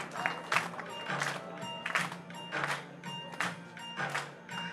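An audience at a live stage show claps in rhythmic bursts of roughly four beats, at moderate volume with music playing underneath.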